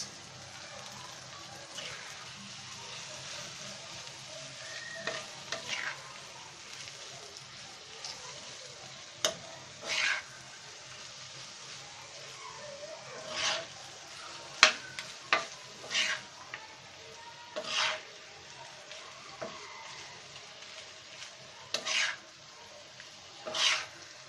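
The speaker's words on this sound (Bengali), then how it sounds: "এই তরকারি কষানোর ভিতরে আমরা আমাদের যে মাছটা আছে মাছটাও কষিয়ে নেব" Baim eel fish frying in a spice and chili paste masala gives a soft, steady sizzle. Intermittent scrapes and clinks of stirring sound throughout, heard close but fairly quiet.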